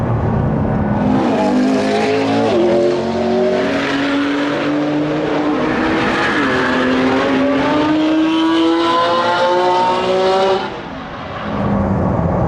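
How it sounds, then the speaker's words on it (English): Ford GT racing on a circuit behind a LaFerrari and a McLaren P1 GTR, loud close engine howl rising through the gears with whining pitch sweeps, then a sudden drop as the throttle lifts near the end. "I'm driving behind a LaFerrari and a P1 GTR, having just passed an F50 on a race circuit in my Ford GT"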